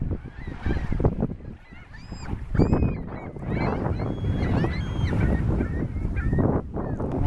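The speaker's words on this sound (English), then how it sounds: "and we got seagulls." Seagulls call repeatedly near Lake Michigan at Indiana Dunes, their harsh honking cries rising over one another above steady wind and lakeshore noise.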